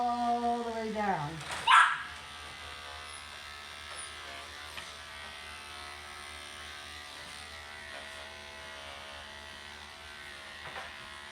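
Electric dog hair clippers run down a dog's coat in long strokes that follow the wave of the fur, giving a steady, low, continuous buzz throughout. A dog whines briefly near the start.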